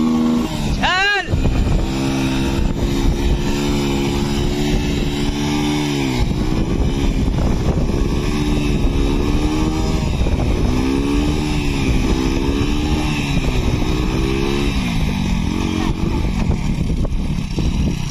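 Hero Splendor Plus motorcycle engine running while it tows another bike, a loud close putter that rises and falls in revs, with people talking over it throughout.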